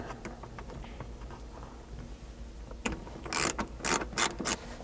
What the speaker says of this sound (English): To get this screw out, you're just going to need a 7mm socket.